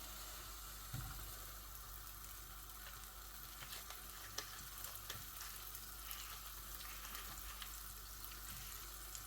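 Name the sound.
cube of butter melting in a hot pan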